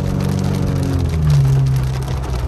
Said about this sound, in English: Heaviest rain I've seen here in a long time.